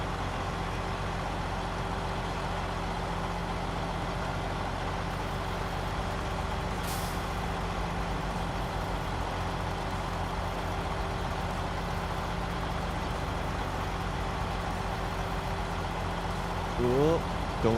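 A Mack Defense military truck crawls over rough off-road terrain in low range in a driving game. Its engine gives a steady, low droning rumble throughout, with a faint brief hiss partway through.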